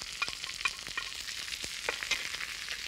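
Meat sizzles in a pan alongside onion, leeks and celery while it is stirred, making a continuous crackling fry with scattered sharp scrapes and clicks, close and without talk.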